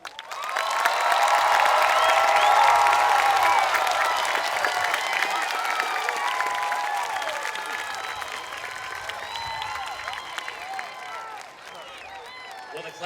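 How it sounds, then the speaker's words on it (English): A large crowd at the Clayton High School class of 2022 graduation ceremony applauds loudly, mixed with cheering and shouts. The sound holds steady, then gradually fades toward the end. "Please, one more round of applause."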